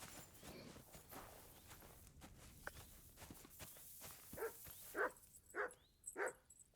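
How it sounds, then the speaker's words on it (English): A dog in the video game Kingdom Come: Deliverance II gives a series of short barks and yips, growing louder toward the end, over footsteps and ambient game noise. "Good doggy. Good boy."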